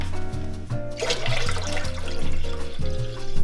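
Water pours steadily into a pan to poach eggs, a continuous close splashing gush over a faint rhythmic background beat, with no talk.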